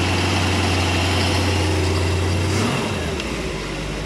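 Chevy 5.7L 350 engine in a 1991 Malibu Competition ski boat running at a steady close idle, a dense low drone that shifts pitch and settles lower partway through, with broad noise over it.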